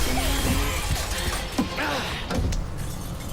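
Glass shattering inside the stealth game Thief, a burst of breaking glass with crashes and thuds over a steady ambient game backdrop, moderately loud and continuing for several seconds.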